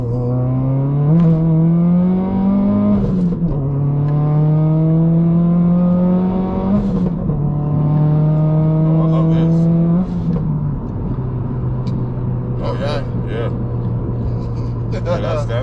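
A modified Subaru WRX STI accelerates hard, its engine note climbing through gears with quick shift dips, then steadying after a downshift; loud and close from inside the cabin, with people talking over it.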